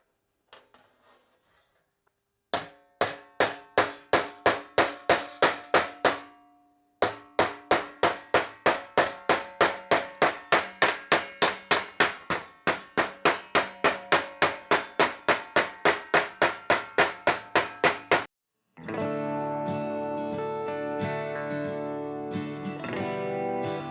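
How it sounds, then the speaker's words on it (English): Rapid, regular metallic hammer blows flattening a metal flange on an air-cooled Porsche 911 oil cooler ring out in long runs with brief pauses, then give way to a steady grinding or buzzing noise. "I'm going to hammer this flat and then rebend it on a new arc"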